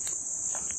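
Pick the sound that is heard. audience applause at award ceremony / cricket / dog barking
cricket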